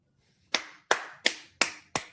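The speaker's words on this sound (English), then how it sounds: "We're clapping here." Five slow, sharp handclaps at an even pace, close and dry, from people watching a football match, with no talking over them.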